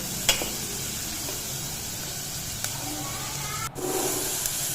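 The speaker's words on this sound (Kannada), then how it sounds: "ಈರುಳ್ಳಿ ಚೆನ್ನಾಗಿ ಫ್ರೈ ಆದಮೇಲೆ" Onions frying in a pan for a puri-and-sagu dish give off a steady, close sizzle and hiss that runs the whole time, with a few faint clinks and stirring sounds now and then.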